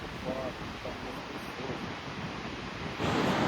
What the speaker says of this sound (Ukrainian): а понизу Атлантичний океан бушує своїми хвилями